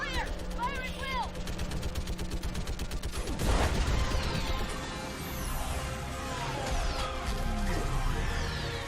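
Mass Effect 3 combat: rapid bursts of gunfire and a rumbling orbital strike blast, with booming explosion and debris, loud and dense, shouted voices over it.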